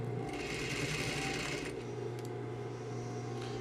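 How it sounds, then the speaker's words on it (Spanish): A sewing machine stitches around the neckline of a garment, a close, steady mechanical whir and rapid needle clatter that eases briefly, then continues. "voy a ir cosiendo por el contorno del cuello"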